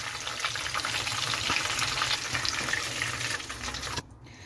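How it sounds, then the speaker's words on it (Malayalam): Chicken pieces for chilli chicken deep fry in oil with a dense, steady close sizzle and bubbling that cuts off sharply near the end. "നമുക്കിത് എണ്ണയിൽ നിന്ന് കോരി മാറ്റിയിട്ട് അടുത്ത സെറ്റ് നമുക്കിതുപോലെ ഫ്രൈ ചെയ്തെടുക്കാം"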